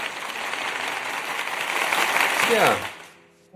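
Scattered clapping runs under a voice, swelling and then cutting off near the end.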